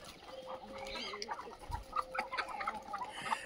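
Desi chickens cluck and chatter on a low-cost village poultry farm, several birds calling close by in irregular bursts, with a faint voice in the background.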